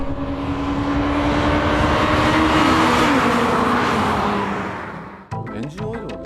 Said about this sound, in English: the Civic R is unstoppable after it's shifted into third